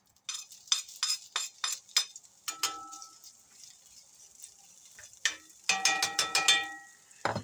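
Spam pieces dropped into a pan while cooking, giving a run of sharp clinks and scrapes early on, a quieter sizzling stretch in the middle, then another burst of rapid clattering and frying noise, close by with no talking.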